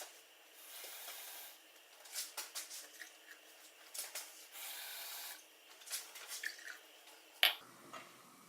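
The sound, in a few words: water being poured into hot chocolate mix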